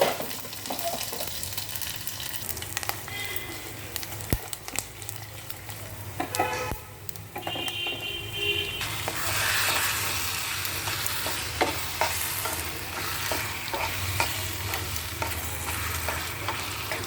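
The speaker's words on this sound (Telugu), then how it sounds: "ఇప్పుడు నూనె కాగుతుందండి ఒక్క రెండు స్పూన్లు వేసాను మరి ఆ కూరలో నూనె పడింది కదా చక్కగా పోపు వేసేస్తున్నానండి" Spices temper in hot oil for a gongura and grated coconut curry, giving a continuous near sizzle with sharp crackles that grows fuller and more intense midway and then keeps spitting.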